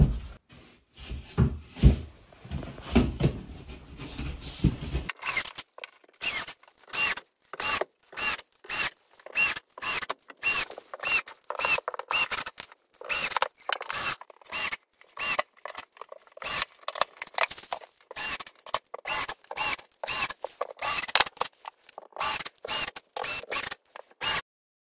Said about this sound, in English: Here I'm just cutting it all to fit and then screwing it onto the wall studs using 1¼-inch drywall screws.